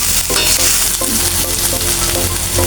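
Ginger garlic paste frying in a little oil for a cauliflower and koi fish dish, a loud close sizzle with busy stirring scrapes and spatula knocks throughout, nobody speaking.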